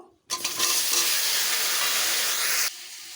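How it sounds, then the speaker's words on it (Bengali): Okra (bhindi) drops into hot oil in which pointed gourd was just fried, bursting into a loud, dense, hissing sizzle that holds steady for about two seconds and then suddenly drops to a low simmer. "ওই তেলেই ভেন্ডিগুলোকেও ভেজে নেব"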